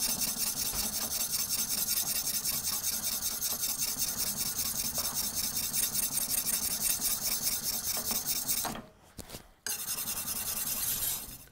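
The tip of a German kitchen knife is ground on a whetstone with steady, rhythmic rasping strokes, continuous and close under background music, with a brief pause near the end.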